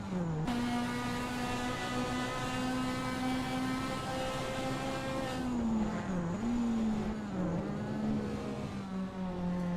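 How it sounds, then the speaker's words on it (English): A GT race car engine in a racing simulation of the Nurburgring Sprint circuit drones steadily at high revs, shifting pitch briefly after a gear change, loud and continuous with no talk. "Kulik is expertly commanding that car through Yokohama S"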